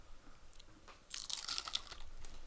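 Crunchy chocolate snack bitten into, a quiet pause and then a burst of loud, close crisp crunching and chewing that lasts to the end.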